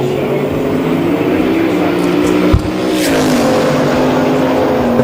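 A pair of drag race cars, one a 2014 Mustang, roar down a racetrack in a loud sustained engine drone that rises in pitch as they accelerate away, with a sharp bang partway through.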